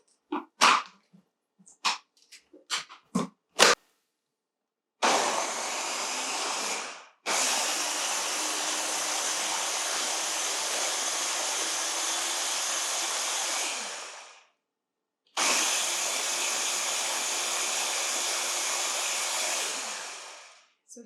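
Blender pureeing green chili and garlic for Afghani aash noodle soup: after a few short clicks and taps, the motor whirs loudly in two long, even bursts separated by a pause, close and alone without voices.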